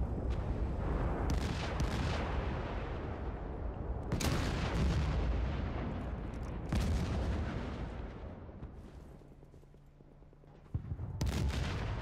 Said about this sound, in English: I just hear explosions around me